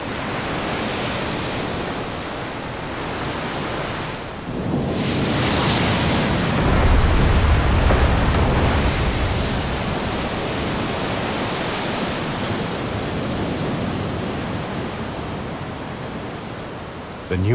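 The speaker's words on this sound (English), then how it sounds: "The power of the waves collides against the ramparts of the volcano." Ocean waves pounding the rocky shores of a volcanic island, a continuous roaring surf that swells into a heavier crash midway, loud and broadband with no talk.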